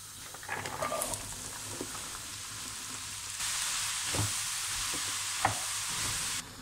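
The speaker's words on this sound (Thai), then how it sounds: "ต่อมาก็ผัดเห็ดนะคะน้ำมันกระเทียม" Bee mushrooms stir-fry in garlic oil, a steady close sizzle with scattered scraping stir clicks that grows louder and fuller partway through, with no talking.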